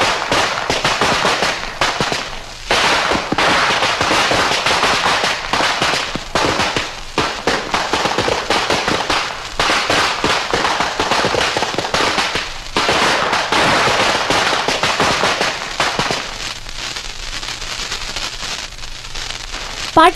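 Christmas firecrackers burst in long, dense crackling volleys that barely pause for twenty seconds, loud and close, briefly thinning toward the end before erupting again.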